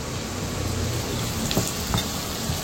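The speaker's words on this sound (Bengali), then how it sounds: "একটু লাল করে ভাজতে হবে" Large green chillies fry in hot oil for a potato-egg dish, a steady close sizzle with a few sharper pops and crackles scattered through it, and no voices.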